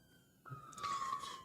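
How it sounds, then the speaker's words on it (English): An ambulance siren sounds outside, a steady wailing tone that swells louder partway through, heard from a distance with no talking. "There's the ambulance."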